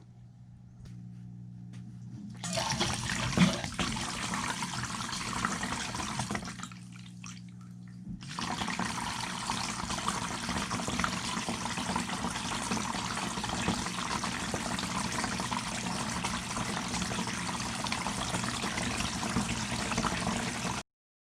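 Water pouring from a hose into a 55 gallon aquarium tank, a steady rushing splash that starts after a quiet moment, pauses briefly, then resumes and runs continuously until it cuts off.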